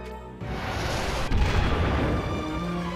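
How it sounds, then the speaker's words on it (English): Cannon fire in a fantasy war video game: one heavy booming volley with a long rumbling, crackling tail that fills the whole stretch, loud and close, with no talking. "Cannon fire! Incoming!"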